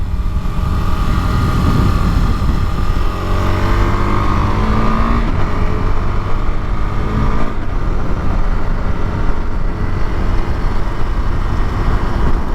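A motorcycle engine revs hard and accelerates out of a big hairpin on a mountain highway, a loud, close, continuous drone whose pitch rises steadily through the gears while rushing wind fills the background.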